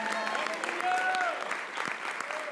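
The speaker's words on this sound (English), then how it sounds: "give the Lord a big hand clap" Church congregation at a Sunday morning service clapping for the Lord, a steady wash of hand claps with organ or keyboard tones sustained underneath.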